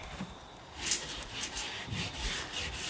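A soft copper brush scrubs lightly across a weathered wooden surface of a community hall, giving steady, close, low-level rubbing strokes with a few brighter swipes, with no talking.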